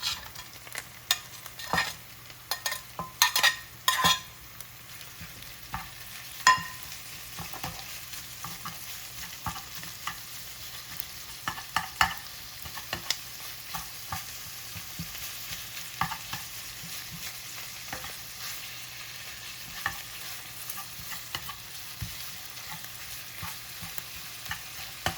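Onions and hamburger meat sizzling in a pan, a steady low frying hiss with occasional scraping and clinking stirs, fairly quiet and close, no voices.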